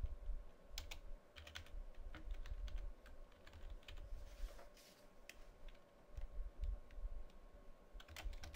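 Typing on a computer keyboard while entering XML code, a steady patter of soft key clicks with occasional sharper strokes, close and continuous without talk.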